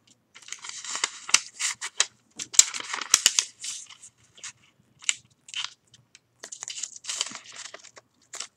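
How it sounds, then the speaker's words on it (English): Sheets of origami paper folded and creased for a 3D koi fish, giving short crisp crinkles and rustling bursts in irregular clusters, close and fairly clear with brief pauses between folds. "You now fold, you fold this corner,"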